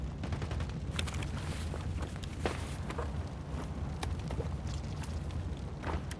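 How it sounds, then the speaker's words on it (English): Faint gunfire cracks and pops in scattered bursts far off in Escape From Tarkov, quiet under a steady low ambient rumble with footsteps moving nearby. "Still some gunfights going on."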